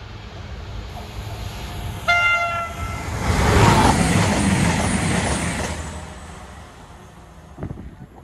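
A train passes on the Midland Main Line at Duffield. A horn sounds briefly, then a loud rolling roar swells and fades as the train goes by, with a short clatter near the end.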